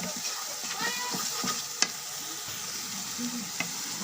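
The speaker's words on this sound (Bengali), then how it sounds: "মশলা হালকা ভাজা হয়ে গেছে।" Ground spices including coriander powder frying lightly in a pan for a potato and pointed gourd vegetable curry, a steady soft sizzle broken by stirring scrapes and a couple of sharp utensil clicks, close and alone.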